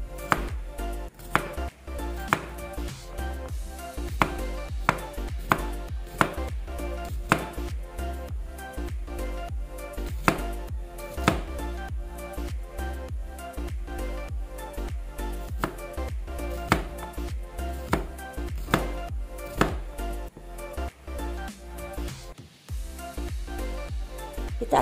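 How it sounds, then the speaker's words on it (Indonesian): Knife chopping starfruit into pieces on a board, a steady run of sharp, closely spaced cuts throughout with a loud, busy rhythm and a low background hum. "Kita akan potong-potong belimbingnya seperti ini."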